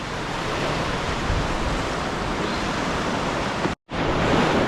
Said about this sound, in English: And that's the Indian Ocean